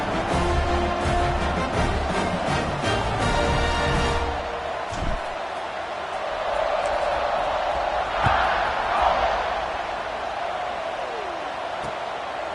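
Stadium crowd at an Alabama vs Tennessee college football game around kickoff, a loud continuous roar of cheering and shouting that swells and holds throughout, with no clear speech on top.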